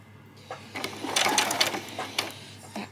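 Short bursts of a sewing machine back stitching on a fabric headband, a few quick stop-start whirs close by with quiet gaps between them.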